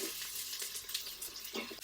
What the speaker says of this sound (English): we can make it sizzle even more by adding in our onion